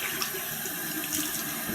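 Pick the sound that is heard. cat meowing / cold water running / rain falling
cold water running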